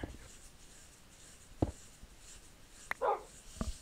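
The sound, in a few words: dog barking in Minecraft video game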